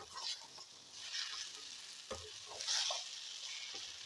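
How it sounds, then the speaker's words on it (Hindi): Potatoes and peas stirred and frying in a pan for an Uttar Pradesh–style matar nimona, a steady sizzle with scraping spoon strokes and a few clinks, close and moderately loud. "अब इसको हम चलाते हुए भून लेंगे।"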